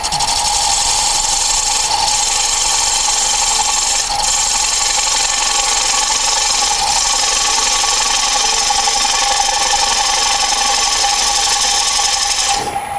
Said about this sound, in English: This is my little 1/4 inch bowl gouge.